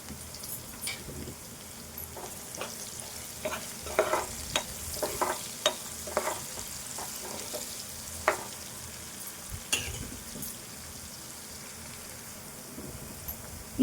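Chicken being stirred with turmeric in a frying pan for a Telangana chicken soup, with a steady low sizzle and scattered scraping clicks of the spoon against the pan, fairly quiet and close.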